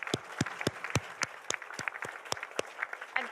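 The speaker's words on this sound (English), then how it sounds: "One final round of applause to this great panel." A short burst of applause from a small group at a ministerial round table panel, scattered claps landing unevenly and fairly close.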